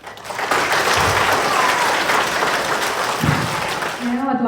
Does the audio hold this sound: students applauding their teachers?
yes